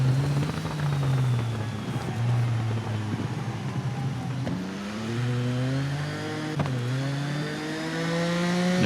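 A racing motorcycle in the TT Isle of Man game brakes hard, its engine note dropping and rising through downshifts, a loud continuous tonal whine with wavering pitch sweeps.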